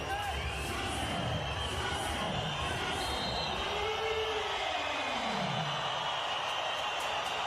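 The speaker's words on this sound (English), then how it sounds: "The crowd is certainly awake." Volleyball arena crowd at a Nations League men's match between Portugal and Serbia, a continuous loud wash of cheering and shouting, with a voice rising and falling through the middle amid the din.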